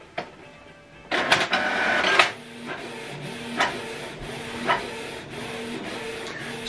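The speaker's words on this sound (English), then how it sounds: "The printer is being aligned." Canon PIXMA TS3150 inkjet printer running its print head alignment: a sudden whirring mechanical burst, then repeated clicks and soft carriage thumps at intervals over a low motor hum, close and alone.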